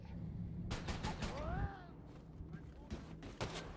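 Gunfire rings out in the video game Wolfenstein II: The New Colossus, a few sharp bursts near the start and again near the end against a low background of game sound.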